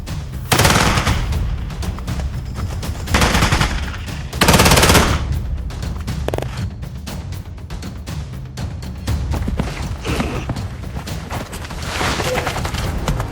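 Sporadic gunfire crackles in a World War II hedgerow battle against German troops, with loud, dense bursts of rapid shots and heavier blasts recurring in waves over a constant roar.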